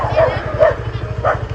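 Several dogs barking in a suburban area on the outskirts of Bangkok, Thailand, a few sharp yelping barks spread across the moment over a steady low rumbling engine-like drone, fairly close and moderately loud.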